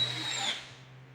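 A power drill bores holes in a workshop, one brief high whirring burst that winds down quickly, with a steady low hum underneath.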